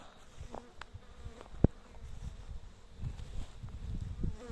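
Honeybees hum around hives on a farm, a soft, steady buzz close by with occasional faint rustles and a brief click, no voices.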